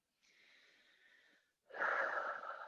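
Slow breathing during a gentle plus-size yoga flow: a soft, drawn-out inhale followed after a brief pause by a louder, breathy exhale, close and alone.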